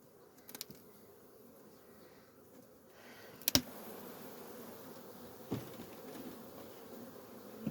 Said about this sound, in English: carniolan bees with a Saskatraz queen